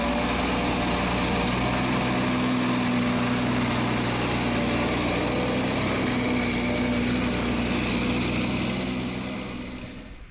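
A snowcat's snow tiller with rotating rollers runs at a steady, even drone and high mechanical whine, loud and continuous before fading slightly at the end, with no voices.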